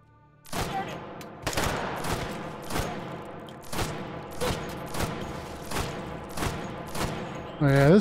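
In Hot Dogs, Horseshoes & Hand Grenades, frag rounds fire in a steady series of about nine sharp, booming shots spaced roughly a second apart, clear and fairly close.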